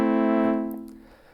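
A sustained brass preset on a Yamaha PSR-36 keyboard with its digital synthesizer off, steady and rich in harmonics, holding one note before fading out, with no one speaking.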